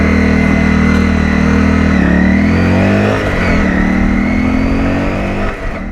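A road vehicle's engine hums loud and steady up close while riding on a rainy road in Panama, its pitch rising and dipping gently as it accelerates, with constant wind and road noise underneath.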